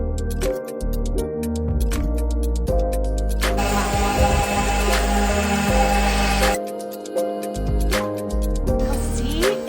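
Power sanding on a wooden Goodwill plant stand, a steady abrasive whir running throughout with a louder, brighter stretch in the middle and short pauses and handling knocks between passes.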